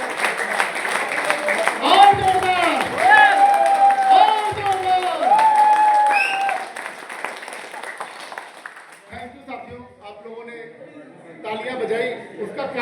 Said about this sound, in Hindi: और जोरदार तालियां बजाइए।